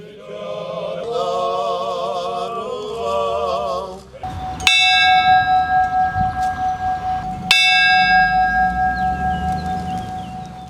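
Two loud strikes of a large church memorial bell ring out with long shimmering decay, following a stretch of sung chanting at a bell consecration service.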